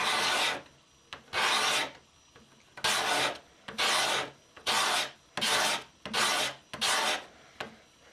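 A hand scraper pushed across wood makes eight rasping strokes in a steady rhythm, each about half a second long, with short pauses between them. The sound is close and dry, and no voices are heard.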